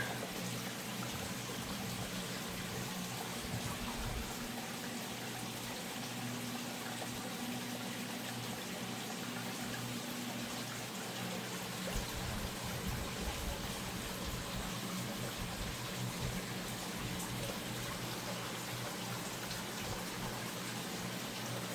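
Water flows steadily in a small creek, a constant soft hiss and trickle that stays even and fairly quiet throughout with no voices.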